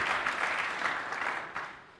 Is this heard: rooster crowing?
no